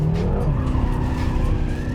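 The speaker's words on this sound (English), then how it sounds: "Hard on the brakes." A BMW M6 braking hard into a corner on a race track, engine roaring loudly with a sustained tire squeal and skid noise, close and continuous.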